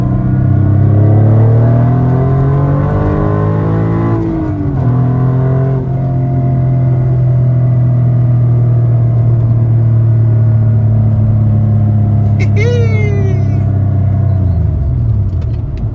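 A modified car's engine drones steadily, its pitch climbing as it accelerates, easing off briefly, then holding a loud sustained roar before winding down near the end.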